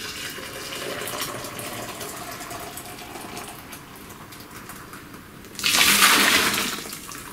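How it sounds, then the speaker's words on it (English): Running water rinses out home brewing equipment, a steady wash of spray that surges louder near the end before easing off. "Let's rinse those out."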